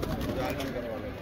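Pigeons cooing at night in Amroha, soft low rolling calls close by, heard under someone talking.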